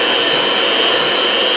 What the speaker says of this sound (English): I just took my hand beater mixer here, and it looks beautifully smooth